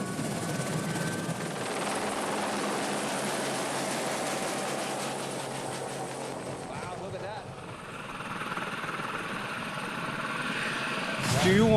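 The constant, thudding drone of a helicopter rotor and engine in the mountains, loud and close throughout, swelling louder at the very end.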